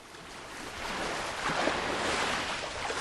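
Ocean waves wash onto a beach with a steady, breaking surge that swells louder midway, mixed with some wind, and no voices.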